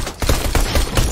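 Pistol shots ring out in Fortnite gameplay, with four quick, loud cracks fired in a steady rhythm and no one talking.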